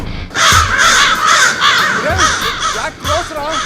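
A flock of crows caws loudly and repeatedly, harsh calls overlapping in quick succession close by.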